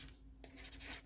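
Pen writing on a package used to mail traded photocards, a brief, soft scratching and rubbing stroke, close and quiet.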